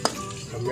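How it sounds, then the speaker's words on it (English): Ginger, onion, garlic and chili sautéing in a hot pan give a steady close sizzle and crackle, with a brief stir or clatter near the start and the frying continuing evenly to the end. "First, saute the ginger, the onion, the garlic, and the chili first."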